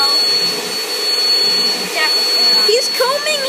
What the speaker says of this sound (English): Alex, turn the vacuum off.